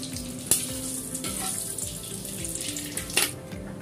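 Garam masala sizzling in hot ghee and white oil, a steady close frying crackle with a couple of sharper pops, no voices.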